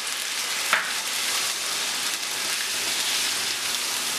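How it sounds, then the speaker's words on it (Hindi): Ginger and garlic paste frying in oil in a frying pan, a steady close sizzle with a brief sharp tap near the start and no talking. "तो सबसे पहले फ्राइंग पैन के अंदर हम ऑयल डाल लेंगे। ऑयल के अंदर जाएगा अदरक का पेस्ट"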